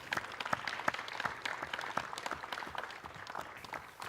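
Steady applause from an audience at a mayoral candidate forum held in a church sanctuary, a continuous patter of many hands that stays even and moderately faint throughout.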